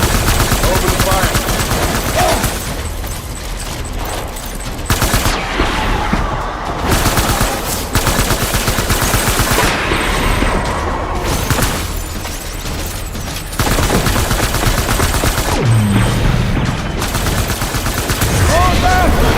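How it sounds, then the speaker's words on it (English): Sustained heavy gunfire in the video game Death Stranding Director's Cut on PS5: dense, continuous automatic fire and booming shots fill the whole stretch at high loudness, with shouted voices mixed into the din. "Open the fire!"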